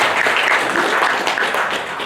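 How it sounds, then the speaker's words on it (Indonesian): A crowd applauds loudly, dense steady clapping from many hands filling the brief moment. "Tepuk tangan dulu ini."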